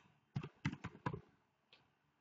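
Keystrokes on a computer keyboard: a short burst of four or five soft, close clicks followed by a single fainter tap after a pause, quiet and without speech.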